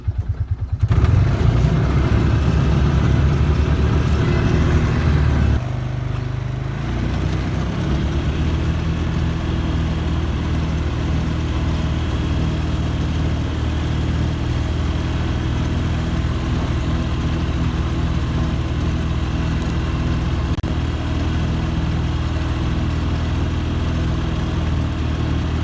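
A Polaris Ranger UTV in two-wheel drive climbs a steep grade, its engine droning loud and close throughout with a steady labouring roar and no talk.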